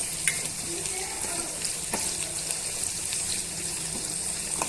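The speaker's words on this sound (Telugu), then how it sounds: "పచ్చివాసన పోయేంత వరకు వేయించుకుందాం." Masala for a raw banana curry fries in a pan with a soft continuous sizzle and bubbling, plus occasional light stirring taps, fairly close and even throughout.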